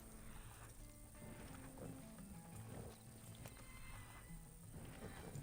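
A horse in the video game Red Dead Redemption 2 neighs amid steady clip-clopping hooves over a constant background hum, with no voices.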